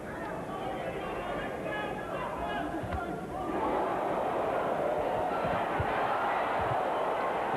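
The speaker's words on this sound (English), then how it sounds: "The crowd are livening up a bit" Boxing crowd in an arena at a heavyweight bout, a steady broad murmur of many voices that swells noticeably louder partway through, with a commentator talking over it.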